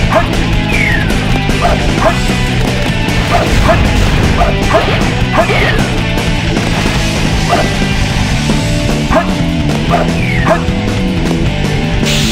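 A dog barks repeatedly, loud and close, in short sharp bursts with some whimpering, over busy crashing Sonic Adventure 2 game sounds.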